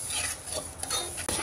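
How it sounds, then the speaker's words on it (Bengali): Lentils being stirred steadily in a pan as they dry-fry, giving a continuous close-up scraping and rustling with a brief louder scrape near the end and no voices. "একদম নাড়তে থাকতে হবে কন্টিনিউয়াসলি, যাতে করে পুড়ে যেন না যায়।"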